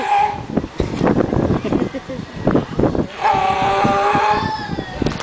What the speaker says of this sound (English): Now that is the typical barking or roaring noise of a sea lion